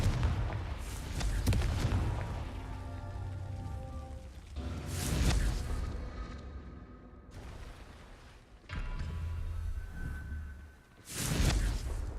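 Confringo fire-blast spells explode in the Hogwarts Legacy video game, several booming blasts with whooshing bursts, loud and close against a rumbling game soundtrack.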